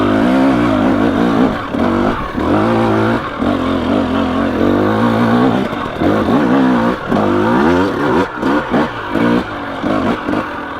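A 2017 KTM 300 XC two-stroke dirt bike climbs steep terrain in second gear, its engine loud and close, lugging and rising and falling in pitch as the throttle blips on and off throughout, with no talking.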